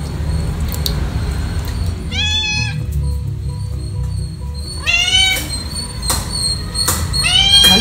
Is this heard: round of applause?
no